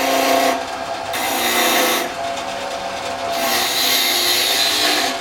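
Woodturning gouge cutting a spinning wooden top on a lathe, giving a steady loud rasping scrape in three long passes separated by brief quieter gaps, with no talking.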